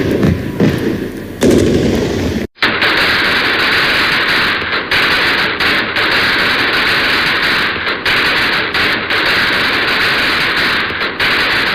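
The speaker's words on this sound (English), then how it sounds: "I know that ain't Princess Pissy Pants shooting fireworks outside at this late at night." Fireworks are set off outdoors late at night, giving a loud, dense, continuous crackling rush that starts after a brief gap near the beginning and runs on with only short dropouts.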